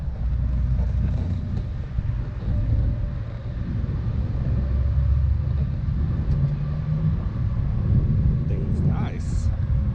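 A Harley-Davidson Street Glide motorcycle engine on a test ride, a continuous low rumbling drone with steady wind noise, close and loud, with a voice speaking over it at times.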